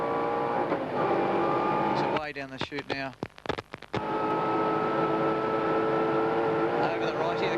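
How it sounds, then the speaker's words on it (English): At the 1990 Tooheys 1000 at Bathurst, a race car's engine screams at high revs in a sustained, loud drone, with a brief burst of commentary cutting across it midway before the engine note returns. "You can hear the gears screaming."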